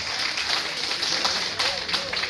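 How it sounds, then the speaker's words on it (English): A short burst of crowd applause at a gathering in Los Angeles, fairly loud, with scattered sharper claps standing out in the steady patter. "Let's clap for John and Eunice."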